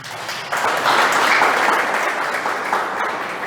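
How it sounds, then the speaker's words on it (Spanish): A church congregation breaks into applause after a short lull, dense clapping swelling quickly and holding steady at close range. "dale otro aplauso a Jesús por eso"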